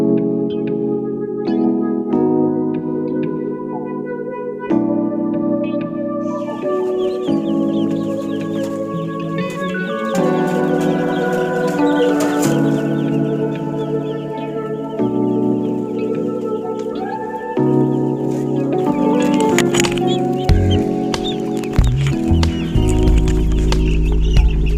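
Broiler chickens cluck on a low-cost poultry farm, with steady overlapping calls from the flock heard alone, no voices, over a constant tonal background.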